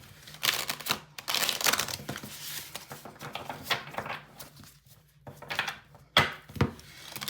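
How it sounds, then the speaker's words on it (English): Soft, irregular riffling and tapping of tarot cards being shuffled, coming in short bursts with quiet pauses between, close by. "I'm gonna ask you to think about your question while I shuffle"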